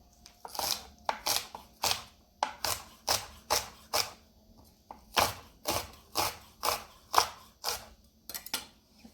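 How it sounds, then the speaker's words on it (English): A knife chops through a leafy green's stem on a cutting board, about twenty crisp, evenly spaced strokes in steady rhythm, close and clear with no talk. "I may even just cut this one in half and slice it"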